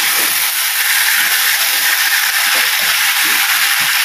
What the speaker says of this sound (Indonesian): bolehlah kita goreng